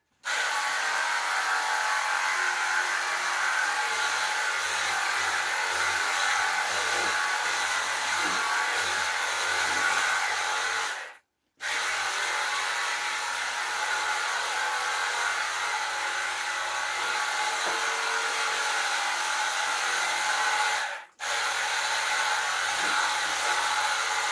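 A pressure washer rinses soap off a Peugeot seven-seater SW car with a loud, continuous spray hiss. The spray cuts out briefly twice, then resumes.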